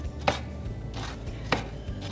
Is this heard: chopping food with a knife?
yes